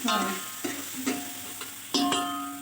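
Onion, ginger-garlic paste and tomato sauté in hot oil, giving a continuous close sizzle broken by several scraping stirs of a spatula in the pan.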